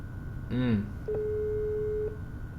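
Telephone ringback tone heard while calling a car seller: a single steady electronic tone lasting about a second, following a brief snatch of speech.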